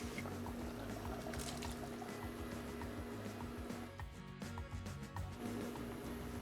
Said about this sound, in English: Now I added the shrimp and I'm giving it a good stir